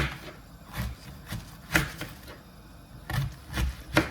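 A knife chops through vegetables, including onion, on a board with irregular sharp thuds, close and clear, spaced unevenly with short pauses between cuts.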